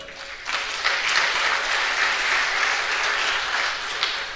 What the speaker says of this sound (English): May we also applaud our MC for a job well done.